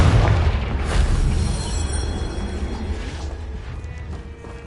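Confringo fire spell exploding in the Hogwarts Legacy video game: a loud, deep boom right at the start whose low rumble rolls on and slowly fades over several seconds, with crackling debris above it.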